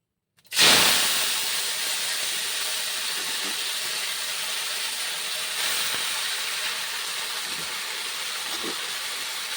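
Leafy greens hit a hot pan with a sudden loud hiss that settles into a steady, broad sizzle, close up and continuous with faint clatter underneath.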